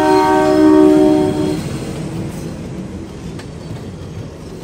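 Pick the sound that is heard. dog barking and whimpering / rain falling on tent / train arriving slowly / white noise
train arriving slowly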